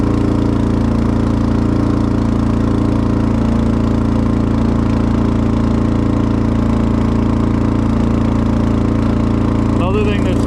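Steady, loud engine idle of a VSI Legacy Series 750 liquid deicing sprayer, a continuous mid-pitched hum with a constant low drone close up, with voices talking over it.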